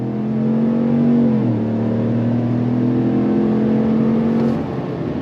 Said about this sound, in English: let's go on throttle in this V8 Sierra Ultimate